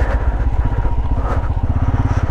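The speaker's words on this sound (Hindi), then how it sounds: "वहां एक बाइकर दिखाई दे रहा है मुझे" A motorcycle engine on a mountain road near Shinkula Pass, a loud, close, throbbing low rumble with a fast, steady pulse, heard alone without talking.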